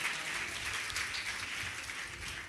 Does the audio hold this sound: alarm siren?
no